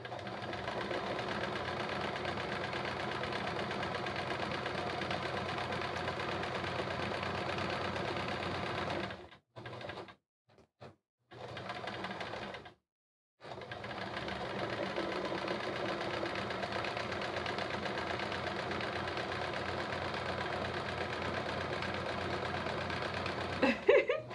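A sewing machine running during free motion quilting, a steady rapid mechanical whirr that stops several times in short breaks and then resumes for a long continuous stretch, close by with no talk.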